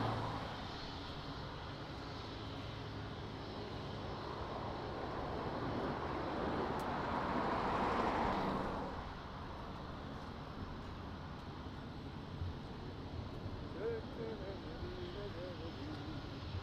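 A fixed-wing airplane at Lisbon Airport passes as a broad engine roar that swells to a peak around the middle and fades away, over steady background noise and some faint talk.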